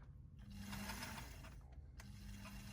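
A Bernina 117 sewing machine motor, set for low speed, turns the pulley with a quiet, steady mechanical whir and light ticking, faint and close, with no talking.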